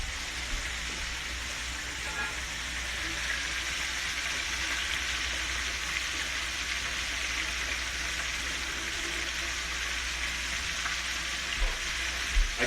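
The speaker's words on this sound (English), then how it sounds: "the idea here is to fry it, get it nice and crispy" Buttermilk-coated trout frying in hot oil, a steady dense sizzle and crackle that holds evenly throughout, close and fairly loud, with no talking.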